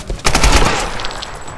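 Rifle gunfire from the Tomb Raider video game during a street fight: a loud, rapid burst of several close shots in quick succession, followed by a fading, rumbling tail with no talk over it.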